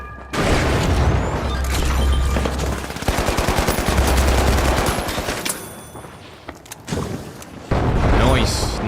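Gun turrets in The Finals hammer out dense, rapid automatic bursts with booming impacts, loud and close, breaking off briefly before resuming, with a voice talking over the gunfire.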